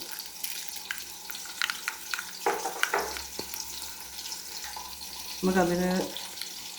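Fenugreek seeds dropped into hot oil for a fish dish give a soft crackling sizzle with scattered pops, plus a brief louder burst of frying near the end, under low kitchen background.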